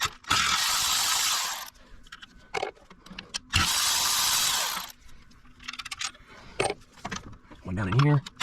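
A hand ratchet loosening 10 mm bolts on the intake manifold of a Nissan 4.0 V6 engine, with several bursts of close, rapid clicking separated by pauses and brief handling noises.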